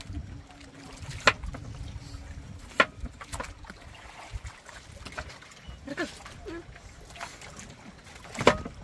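Sea water sloshes and laps around a small boat amid waves, with occasional knocks and creaks over a steady low rumble of wind and motion.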